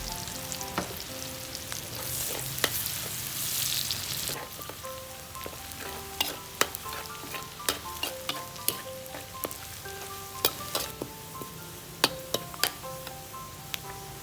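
Garlic, shallots and ginger sizzle steadily in hot chicken fat for a Thai khao man gai chicken rice, with a dense frying hiss and scattered stirring clinks and taps from a utensil against the pan, close and alone.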